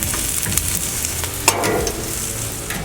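Onions sizzling and frying on a Blackstone griddle, a steady crackling hiss close by with scattered sharp pops and a brief scrape of stirring, no talk.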